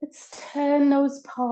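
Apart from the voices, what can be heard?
No everyday noise stands out behind the speech.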